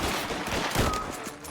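Dense video game gunfire fills the whole moment, a loud continuous burst of overlapping shots with no pauses.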